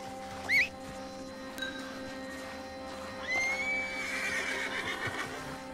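A horse in the video game Red Dead Redemption 2 gives a short, sharp whinny, followed by a longer, wavering neigh over a steady background hum.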